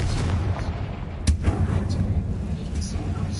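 A Confringo spell blast from the Hogwarts Legacy video game lands as a single sharp, loud burst amid a steady low rumble of game ambience, with a voice casting the spell just before.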